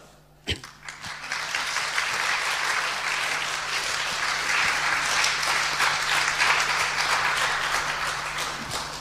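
A church congregation in Korea applauds after a testimony about a mission to Aboriginal Australia, with one sharp knock followed by a sustained, full burst of clapping that carries on steadily throughout.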